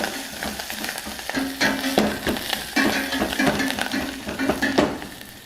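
Green chillies, curry leaves and coriander frying in hot oil while being stirred with a spoon, a steady close sizzle broken by repeated scraping and clinking strokes against the pan.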